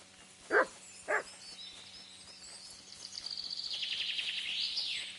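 A dog barks twice in the video game Kingdom Come Deliverance 2, two short sharp barks early on, followed by birdsong chirping and trilling through the quiet rural ambience.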